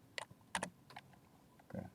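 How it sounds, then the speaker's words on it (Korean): Quiet keystrokes on a computer keyboard, a few close, light clicks in small uneven clusters, including a quick double tap, with short pauses between them. "직접 키보드로 쌍따옴표를 쳐야지"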